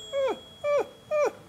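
A person imitates an anxious dog's whimper: three short, high whining cries with falling pitch, evenly spaced, close and fairly loud, with no talking.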